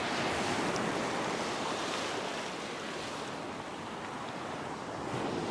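Waves dump onto a beach shore just off a sandbar, making a steady, loud wash of surf. Wind noise rumbles over the microphone, and no one speaks.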